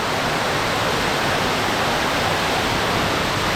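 Karkatgarh waterfall at Bhabua, Bihar, a steady, loud, broadband rush of falling water that is continuous and unbroken throughout, with no voices.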